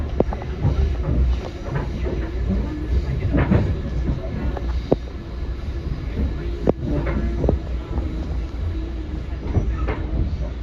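Rumbling interior of a Kawasaki M8 commuter train on the Harlem Line at White Plains station, low engine hum with occasional clanks and thumps, faint announcement-like voice in the background.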